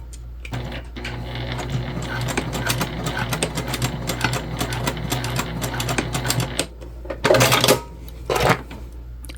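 A sewing machine runs a fast continuous stitch around the edge of a backpack, whirring and rattling close by for several seconds before stopping, followed by a few louder bursts of handling noise.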